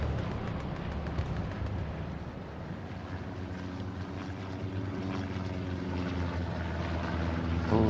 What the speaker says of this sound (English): Recon plane coming in over town.